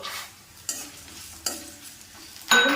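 Shallots and urad dal frying and being stirred for a jackfruit thoran, a soft sizzle punctuated by three distinct scraping strokes of a spoon in the pan, the last one loudest, close and with no talking.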